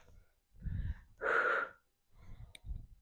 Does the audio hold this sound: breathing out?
yes